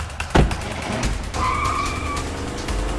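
Car in the A Way Out video game pulling away with a tire skid, engine roar rising and a squealing tone held for under a second, loud and close over steady game ambience.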